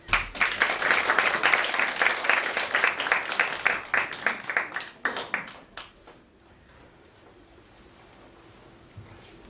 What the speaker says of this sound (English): Let us give them a very round of applause.